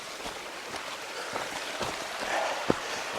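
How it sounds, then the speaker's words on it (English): Creek water running over a trail crossing, a soft steady trickle and wash with occasional splashy drips, close by and fairly quiet. "You can hear the water running now."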